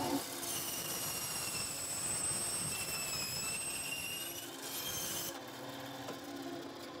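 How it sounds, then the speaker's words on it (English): A table saw set to a half-inch fence cuts a slice from thick foam, giving a loud continuous whining roar with a steady high tone that dips briefly as the blade works through the piece. "The ring for my sight is about 1/2 inch wide, so I set my fence to 1/2 inch and now I'll cut it out."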